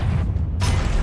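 A Confringo fire spell explodes in Hogwarts Legacy on PS5: a loud, dense burst with a deep boom, steady for about a second with a brief dip before surging again.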